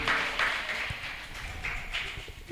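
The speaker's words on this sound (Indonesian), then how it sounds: "beri aplaus, beri tepuk tangan yang meriah untuk." Audience applause for a young finalist at the grand final of a Wahidiyah children's speech competition, a moderately faint, steady patter of clapping that swells briefly and fades out over a couple of seconds.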